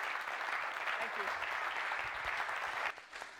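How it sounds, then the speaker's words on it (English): Audience at a London trading conference applauds in a steady, full round of clapping that cuts off near the end, with speech audible underneath. "a round of applause for Raghee."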